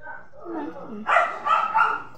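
Young puppies, among them dachshunds, yip and bark in short, close bursts, mixed with people talking nearby.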